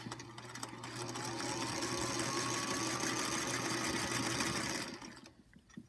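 Sewing machine stitching fabric for a wide tuck quilt sampler block, a steady close mechanical hum and rapid needle chatter running for several seconds before slowing to a stop.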